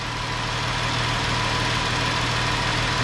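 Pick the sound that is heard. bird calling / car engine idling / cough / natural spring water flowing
car engine idling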